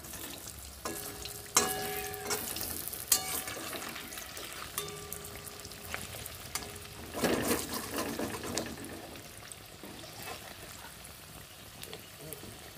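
Cabbage pakoras turned over one by one in hot oil give a steady bubbling fry, with clinks and a louder surge of sizzle as they flip, and a voice talks underneath.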